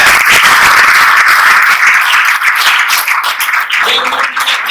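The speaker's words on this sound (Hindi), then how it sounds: "तालियां बजाएंगे, ऐसा है।" Audience clapping at a talk in a meditation center, brisk and fairly close, with individual claps audible through a dense round of applause that tapers slightly near the end.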